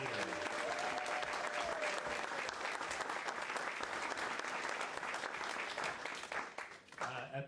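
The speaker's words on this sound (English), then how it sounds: "Let's give one more round of applause for all of our employees of the year." A large crowd applauds steadily and loudly at a school district employee recognition ceremony, the clapping thinning out near the end, with a voice briefly audible underneath.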